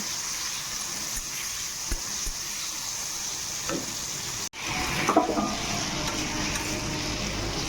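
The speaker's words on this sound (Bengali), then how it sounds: "পরিমাণ মতো নুন, একটা তেজপাতা দিয়ে টমেটোটাকে ভালো করে ভেজে নেব" Tomato fries in a pan with salt and a bay leaf, giving a steady loud sizzle. Stirring scrapes and clatters through it, with one brief break partway.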